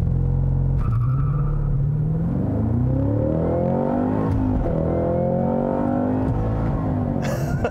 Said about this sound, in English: So let's go ahead and try the launch control.